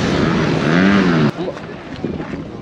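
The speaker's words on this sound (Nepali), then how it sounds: "बाइकको आवाज धुर धुर" A motorbike engine rumbles loudly at close range in a crowded Beni bazaar, a steady droning roar that suddenly cuts away to quieter street noise.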